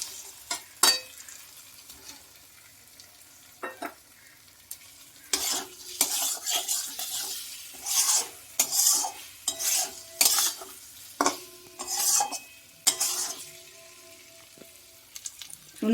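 Duck eggs stir-fried in a spicy masala in a pan, with a low sizzle under repeated metal spoon scrapes and clinks against the pan, close and moderately loud.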